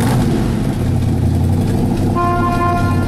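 A cold start of a restored 1966 Trophy Blue 427 V8 rated at 425 hp, roaring loud and steady up close with a deep rumble, then a high idle.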